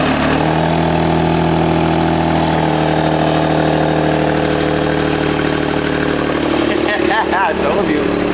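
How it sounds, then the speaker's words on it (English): An all-wheel-drive V6 engine idles steadily with a massive exhaust leak, a loud continuous raspy drone with rough harmonic roar, shifting slightly near the end. "what you're hearing is a massive exhaust leak on this engine"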